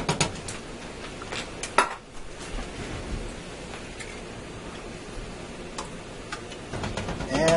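Tomato sauce from two 8-ounce cans goes into a pot of meat sauce for penne rigate, with clanking metal and cookware knocks, a sharp clatter near the start, and then scattered lighter taps and scrapes.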